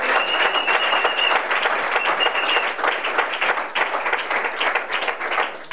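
A church congregation applauds in steady, dense clapping that holds loud and continuous, with a faint tone threading through the first half and a slight dip near the end.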